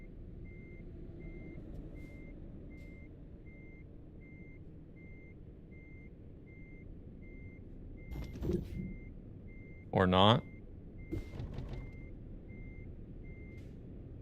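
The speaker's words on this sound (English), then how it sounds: "I heard it beep." A truck in a video game reverses with a steady series of evenly spaced electronic backup beeps running throughout. Near the end, low engine noise swells with a brief air-brake hiss, and players talk briefly over it.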